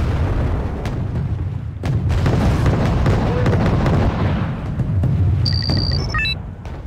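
Naval guns from warships in Wargame: Red Dragon thump and boom amid a dense, rumbling battle din, with sharp reports over a continuous low roar and brief interface beeps near the end.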